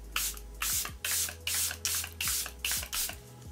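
Makeup setting spray misted onto a face in rapid repeated bursts, about seven short hissing sprays in a steady rhythm, close and fairly quiet.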